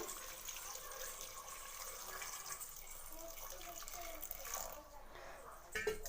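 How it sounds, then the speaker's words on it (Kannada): Water pours steadily into a pot for vegetable sambar, with salt added, a continuous splashing rush that runs for several seconds before tapering off near the end. "ಇವಾಗ ಸ್ವಲ್ಪ ನೀರು ಹಾಕೊಳ್ಳೋಣ. ನೀರು ಹಾಕೋತೀನಿ."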